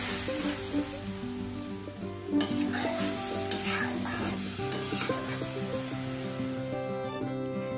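Spice masala sizzles in a pan with a splash of water, a close and continuous frying hiss marked by stirring scrapes, with faint tonal sounds in the background and no speech.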